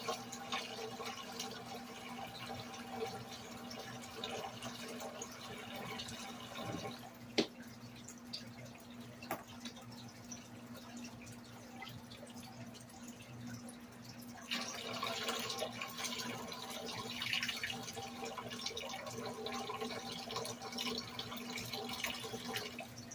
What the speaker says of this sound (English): Just want to empty the water.